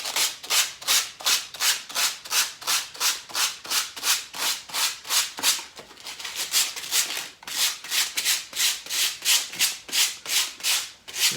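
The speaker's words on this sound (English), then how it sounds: "So taking some sandpaper and just putting a little bit on there." Sandpaper rubbed by hand on a wooden cabinet piece, a steady run of about two dozen rhythmic back-and-forth strokes, close and loud, with a brief pause in the middle and no talking.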